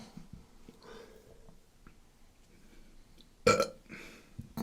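A single loud burp erupts close to the mic midway through, alone against quiet background murmur and breathing.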